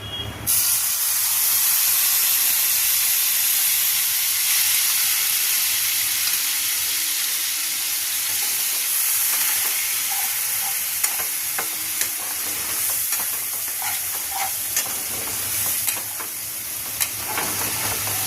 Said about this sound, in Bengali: গরম মশলা ফোড়ন দিয়ে প্রথমে আমি পেঁয়াজটা দিয়ে দিচ্ছি।